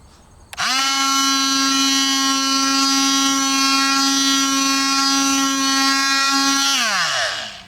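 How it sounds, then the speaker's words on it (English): A power sander with 400 grit sandpaper, set to speed 4, spinning up on the rusty bed of a neglected Japanese kei truck: a sudden start into a loud, steady whine that holds, then winds down at the end. "this is 400 grit sandpaper"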